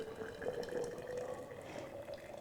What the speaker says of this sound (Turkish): Kabuk tarçınım, kan şekerim için lezzetlendirici ve enerji verici sihirli karanfil toplarım şu şekilde sıcak suyumu döküyorum.